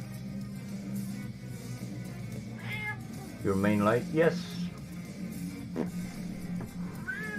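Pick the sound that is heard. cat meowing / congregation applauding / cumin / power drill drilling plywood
cat meowing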